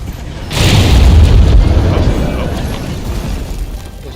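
A bomb detonates in a Monster Hunter fight with a sudden, heavy boom and deep rumble that swells, then trails off slowly into a fading rumbling tail.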